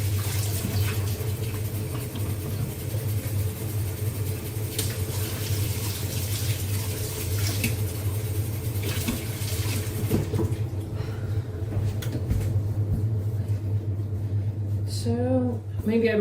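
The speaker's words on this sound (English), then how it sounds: "Let me wash my hands for a bit." Tap water running steadily as hands are washed at a farmhouse kitchen sink while baking rock buns, a constant mid-level splashing hiss with faint handling clatter near the end.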